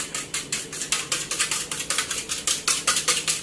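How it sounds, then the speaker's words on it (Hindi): An egg being whisked in a bowl for chicken egg cutlets, a steady run of quick, bright clinking beats close by, about four or five strokes a second, with no talking. "तो अब इसमें अंडा फेंटते हैं।"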